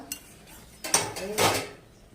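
A metal lid clatters off a pot of kochu shak (taro greens) cooking on the stove, with two close, short clanking bursts about half a second apart in a quiet kitchen.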